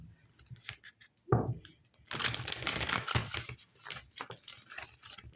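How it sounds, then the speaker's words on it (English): Papery shuffling and riffling of tarot cards in close bursts, with a short pause and then a longer, busier stretch of crisp flicking. "One more shuffle."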